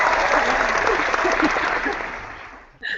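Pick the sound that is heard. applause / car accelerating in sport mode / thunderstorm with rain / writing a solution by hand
applause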